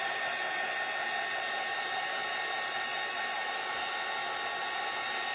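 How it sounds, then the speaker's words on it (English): A small handheld power sander runs steadily on a wooden pumpkin-and-snowman craft piece, giving an even, continuous whir close by with no talking. "we're going to take our little gator and we're going to go around and we're going to sand this off"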